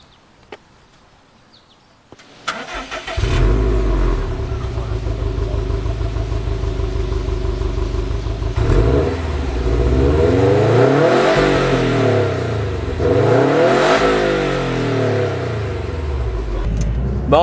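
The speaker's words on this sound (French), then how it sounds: "c'est le fameux moteur, le Rumble de la STI" A 2018 Subaru WRX STI boxer engine cranks and fires up, then settles into a deep, loping idle before being revved several times in rising and falling sweeps, loud and close.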